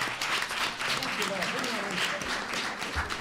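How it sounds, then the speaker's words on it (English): An audience applauds the candidates at the close of a Michigan 13th District debate, with steady, fairly close clapping sustained throughout and a few voices underneath. "another round of applause to our candidates"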